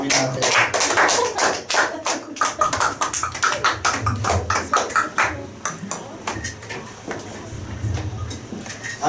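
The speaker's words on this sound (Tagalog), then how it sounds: "Yung bang palakpak na parang sobrang marami natin." A church congregation claps in a dense, rhythmic patter of sharp hand claps that stays steady for several seconds, with faint voices underneath.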